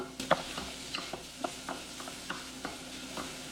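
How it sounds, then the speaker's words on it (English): Pork searing in a hot pan for a summer harvest stew, with a faint steady sizzle under a series of light scraping and stirring strokes, close and quiet with no voices. "Just get a good sear."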